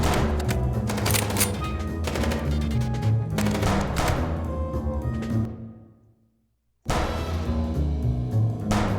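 Rapid bursts of gunfire in the Chicken Police video game, dense and continuous for several seconds, cutting to near silence briefly before the shooting resumes.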